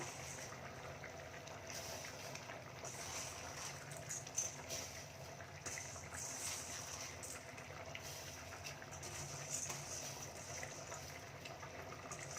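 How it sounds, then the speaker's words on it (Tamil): A steady bubbling rumble of salted water boiling in a pot with rice for biryani, continuous and moderately quiet, with faint clinks now and then. "தண்ணி நல்லா கொதிக்குது"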